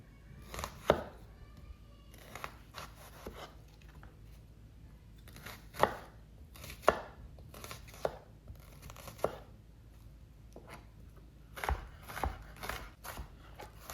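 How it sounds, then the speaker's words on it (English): Half a small onion chopped into small pieces on a cutting board for a Korean chive pancake, faint irregular knife taps and crisp cutting strokes scattered across a quiet kitchen background. "cut and then chop into small pieces"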